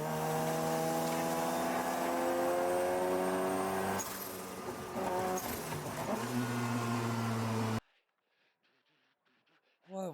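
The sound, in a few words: race car engine revving in iRacing video game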